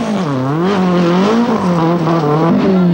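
A 1982 RAC Rally car is driven hard through a tightening right-hander, its engine note rising and falling with the throttle as it passes close and loud, with a faint squeal from the tyres, no one talking.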